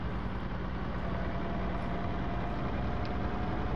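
Jelcz 080 bus engine idling in the OMSI bus simulator game, a steady low rumble holding evenly throughout with no pauses or revving.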